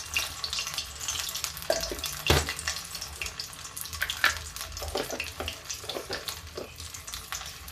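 Pumpkin kofta shallow frying in oil in a pan, a steady close sizzle with scattered crackles and a few clinks of a utensil, no talking.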